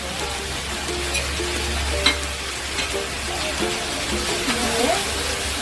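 A spatula stirs Bengali-style Malabar spinach chorchori with salt and chili in a frying pan, scraping steadily over a constant sizzle, close and moderately loud, with a voice talking over it.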